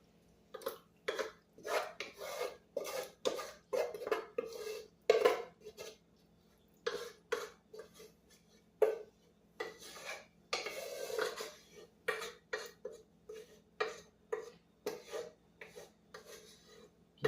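Baked ziti scraped from a pan into an 8x8 baking dish: a close, repeated series of rough metallic scrapes and clinks in uneven strokes with short pauses between, and no talking.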